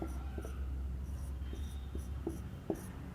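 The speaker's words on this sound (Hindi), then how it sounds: "एक क्वेश्चन और लिखता हूँ मैं इस पर" Marker or chalk strokes on a board as a math question is written, faint scratchy taps and short squeaks in a loose rhythm over a low room hum, with no talk.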